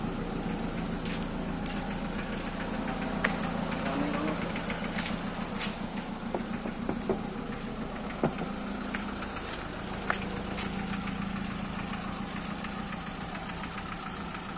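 A 1983 Mitsubishi L300 van engine idles steadily up close, a continuous even rumble with light ticking and knocking, while condensation water drips from the exhaust and no smoke appears.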